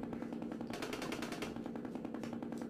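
A rapid burst of gunfire, shots cracking in quick succession for a couple of seconds, fairly even in rhythm and moderately loud.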